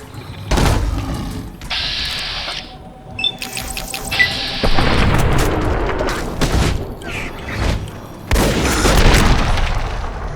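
Loud, booming explosions from a bomb in Fallout New Vegas, with several heavy blasts and crackling debris layered over mechanical game effects.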